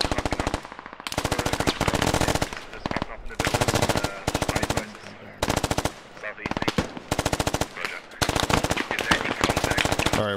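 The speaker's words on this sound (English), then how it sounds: "We're taking fire." Long, loud bursts of rapid automatic fire in an airsoft milsim firefight come in sustained strings with brief pauses between them, near and harsh.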